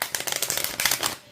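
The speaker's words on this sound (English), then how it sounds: "This deck is such a hard deck to shuffle" An oracle card deck is riffled and shuffled in a quick, dense crackling patter, close up and continuous for just over a second.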